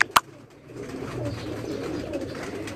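Pigeons coo softly in a loft during vaccination time, faint low calls over a steady background rumble after a sharp click at the start.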